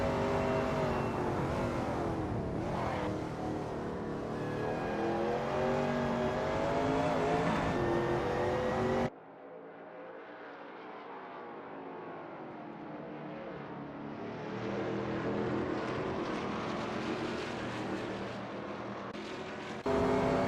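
Shelby Cobra 351 race car in a racing video game at Donington Park, its engine droning and revving continuously with rising and falling pitch, a brief dip at one gear change, steady and fairly loud throughout.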